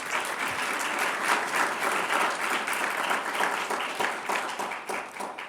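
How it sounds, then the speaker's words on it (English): An audience at a Veterans Day school program applauds a student performer: steady, dense clapping from many hands that holds at an even level throughout, with no talking over it. "Let's give her another round of applause."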